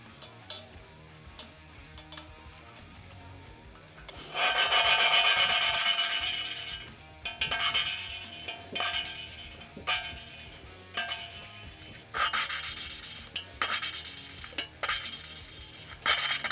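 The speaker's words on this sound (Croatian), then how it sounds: "Kad stavim ventil unutra, sa one druge strane ću pričvrstiti ovo crijevo i lagano polirati." A BMW M52 engine valve is being lapped into its seat with polishing paste, heard as repeated bursts of gritty rubbing and rasping that start and stop in an uneven rhythm. The sound is close and moderately loud, with no talking.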